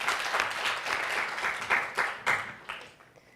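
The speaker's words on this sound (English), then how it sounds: "Why don't we welcome her with a big round of applause." An audience breaks into applause to welcome a speaker at a policy talk on Australia's G20 role: dense, steady clapping from a full room, thinning into a few scattered claps toward the end.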